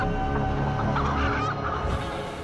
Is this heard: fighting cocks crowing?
yes